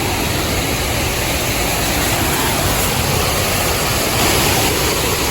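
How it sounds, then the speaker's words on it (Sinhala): Water rushes along a stream channel in rural Sri Lanka in a loud, unbroken, close-up wash of noise that holds steady for the whole stretch. "ඇලේ වතුර පාරේ යනවා."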